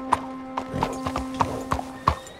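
Horse hooves clip-clop at a steady walking pace in Red Dead Redemption 2, each sharp knock spaced evenly and fairly close, with no talk over them.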